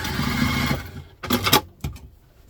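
A sewing machine stitches a vintage-style doctor's handbag lining, running in a steady close whir for under a second, pausing, then sounding in two short bursts.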